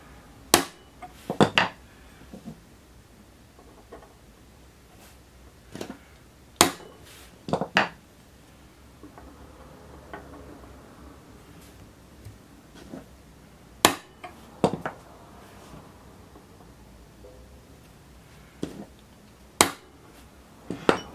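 Light hammer taps peening the barrel of an M14 rifle: a sparse series of sharp, ringing metallic strikes spaced a second or more apart, some in quick doubles, against a quiet workshop background.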